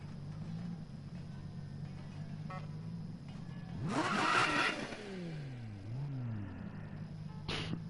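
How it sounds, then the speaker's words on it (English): A video game sports car engine in Need for Speed (2015) revs up sharply to a loud roar, then drops and idles with a low drone before another quick rev at the end. "I like the sound of this car"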